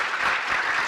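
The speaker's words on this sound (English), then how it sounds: "Worthy of a round of applause" A live audience at a recorded radio show with chef Alton Brown breaks into brief, dense applause, a loud continuous wash of clapping with no voices.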